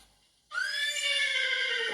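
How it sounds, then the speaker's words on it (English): A horse lets out a loud, close whinny that starts abruptly and holds steady for about a second and a half, ringing with bright harmonics, with no talk over it. "It's a horse!"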